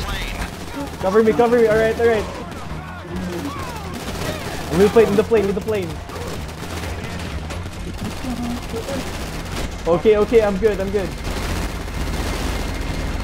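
Gunfire rattles through a GTA Online prison break plane setup, with bursts of shots under a steady rumble of game noise while several players talk over it.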